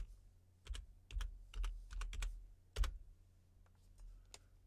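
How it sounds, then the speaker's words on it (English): Someone types a password on a computer keyboard, producing quiet, irregular clicking keystrokes in short bursts against a soft background hum. "I'm typing the password."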